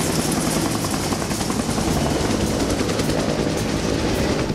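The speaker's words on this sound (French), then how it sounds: "nous avons la chance d'avoir des hélicos qui se relaient, donc pour la bande son c'est génial" Helicopters take turns flying over a hill during an outdoor film shoot, their loud, steady rotor chop filling the whole stretch with a dense, continuous thrum.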